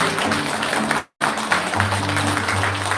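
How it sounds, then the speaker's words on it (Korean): Applause at an international forum on repatriating prisoners of war, a continuous crackle of many hands clapping with a brief cut partway through and a low hum underneath. "박수 한번 주시기 바랍니다"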